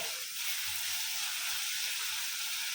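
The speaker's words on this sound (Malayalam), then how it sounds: "ആദ്യം തന്നെ ഞാൻ പേസ്റ്റാക്കിയ വെളുത്തുള്ളിയാണ് ആഡ് ചെയ്യുന്നത് അത് നല്ല പോലെ ഒന്ന് മുരിങ്ങട്ടെ" Garlic paste frying in hot oil for a date pickle, giving a loud, continuous, hissing sizzle close by with no talk.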